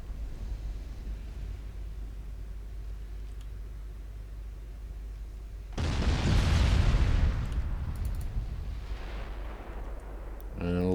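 Naval gunfire from warships in the game Ultimate Admiral Dreadnoughts comes as a loud booming salvo with a long rumbling tail, breaking in midway through a steady low engine-like drone.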